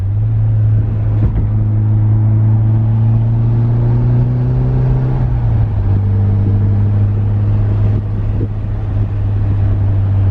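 A Nissan 180SX with its stock turbo accelerates, a loud close engine drone rising in pitch, dipping at a gear change, then pulling again under wind noise from inside the car.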